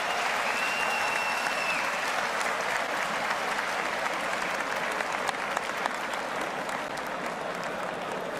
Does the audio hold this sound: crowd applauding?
yes